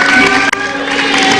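Studio audience of a TV talk show applauding on cue; a brief, loud burst of dense clapping and crowd noise with a momentary dip midway.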